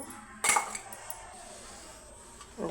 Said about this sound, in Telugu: ఇదిగోండి స్టవ్ ఆన్ చేసి కలయి పెట్టాను